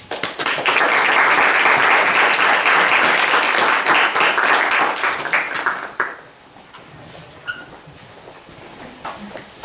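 An audience at a local history talk about business in Coeymans breaks into dense, sustained applause that fades after about six seconds, leaving a few scattered claps and quiet room noise.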